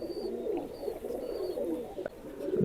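Several Pakistani highflyer pigeons at a loft in Khulna coo steadily in low, throaty rolling calls, fairly close and continuous, with a faint high whistle and a brief knock partway through.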